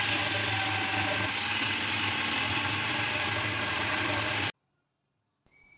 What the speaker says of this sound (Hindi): इसे हम ग्राइंड कर लेंगे। मैं यहाँ चॉपर का यूज़ कर रही हूँ